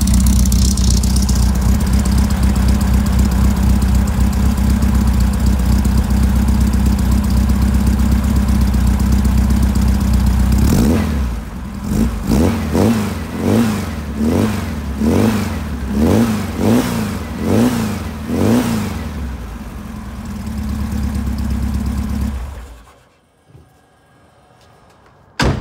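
A Porsche 356 Speedster replica engine idles steadily for a while, then revs up and down in a series of sharp rhythmic bursts before cutting off, near and loud.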